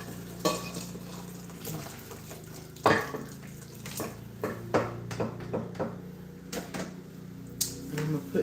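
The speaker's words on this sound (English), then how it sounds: "I'm just getting rid of the water out of the spaghetti." Cooked spaghetti being drained of its water in a home kitchen, with pot and utensil clanks, running and splashing water and scattered knocks, fairly close amid ongoing activity.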